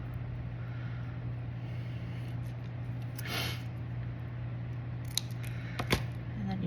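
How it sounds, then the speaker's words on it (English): Scissors cutting a small triangle from folded orange paper, a few quick crisp snips close by over a low steady hum. "So what you're going to do is cut away from that fold, a little triangle."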